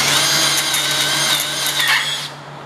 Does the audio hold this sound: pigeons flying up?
no